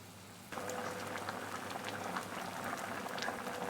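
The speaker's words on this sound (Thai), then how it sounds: "เคี่ยวต่อไปเรื่อย ๆ นะคะ สักประมาณ ครึ่งชั่วโมงค่ะ" Thick sugar syrup for candied bananas simmers steadily, a dense, continuous bubbling and popping that starts abruptly and holds at an even level.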